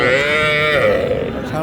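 A crossbred bull calf at a cattle market lets out one long, loud, close moo that wavers in pitch, with crowd murmur behind it.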